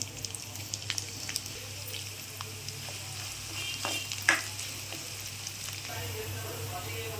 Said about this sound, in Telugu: నూడిల్స్ కావాల్సినంత ఆయిల్ వేసుకొని దీనిలో పచ్చిమిర్చి, ఆనియన్స్ వేసి ఫ్రై చేసుకోవాలి